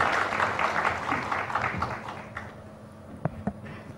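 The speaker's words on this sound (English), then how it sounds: "Please welcome him with a big round of applause." Audience at an auto industry forum applauding a speaker onto the stage, a fairly faint wash of clapping that thins out, leaving a few scattered claps at the end.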